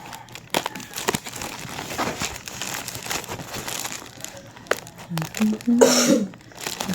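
Bubble wrap crinkles and rustles in close, irregular bursts while an online order is unpacked, with brief handling noises and a short vocal sound near the end.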